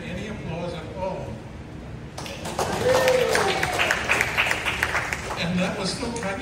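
Scattered, modest clapping breaks out partway through at a Knights of Columbus chapter dinner, rising over room murmur and voices talking nearby, with individual claps audible rather than a full ovation.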